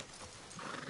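Horses walking with close clip-clop hoofbeats and a brief neigh, faint and under low background noise in a short moment.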